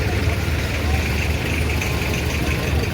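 Tractor engine idling at a Sikh nagar kirtan procession, a steady low rumble and chug held throughout at close range with crowd noise around it.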